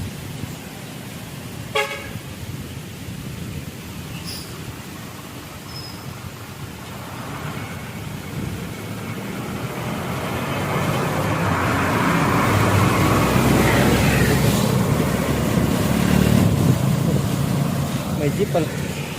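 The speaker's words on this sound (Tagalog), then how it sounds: "May jeep pala dito nga, di pasahero." A passenger jeep travels a cloudy, rainy mountain road in the Manika Highlands, with a horn toot early on and engine and road noise rising and swelling toward the end as people talk.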